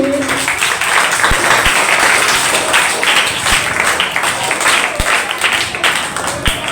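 An audience at a school debate competition claps for a speaker, a sustained loud patter of many hands with a few sharp knocks and thumps scattered through it and a brief voice at the start.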